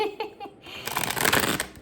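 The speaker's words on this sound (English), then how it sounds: "Sorry guys, one more shuffle." Tarot cards being shuffled by hand, a dense riffling burst building to a loud, close flutter, with a brief laugh-like voice sound at the start.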